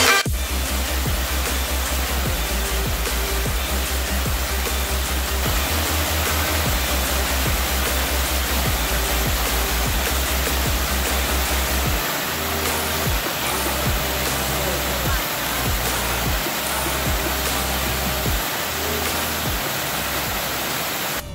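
Chinchinkete Falls in high flow, a waterfall giving a loud, steady broadband roar of rushing water that fills the whole stretch without a break and with no voices.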